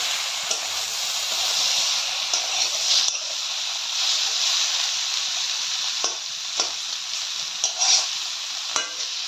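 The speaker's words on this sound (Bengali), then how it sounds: "তখন আমরা আবার ভালোভাবে কাঁঠালগুলো নাড়িয়ে নিচ্ছি।" Jackfruit curry, cooked to taste like meat, is stirred while it fries in a pan. A continuous hissing sizzle runs throughout, with occasional soft utensil knocks and scrapes.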